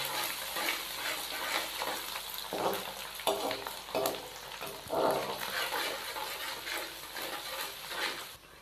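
Ginger-garlic paste frying with onions in a pan while preparing carrot pulao: a soft sizzle with repeated stirring scrapes, fairly quiet and close.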